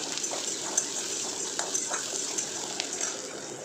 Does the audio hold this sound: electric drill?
no